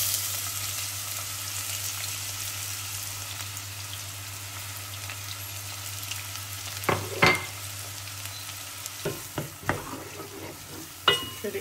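Onions frying in a pan while a Sivas hingel dish is cooked, a steady low sizzle with a few sharp stirring scrapes and clicks near the end.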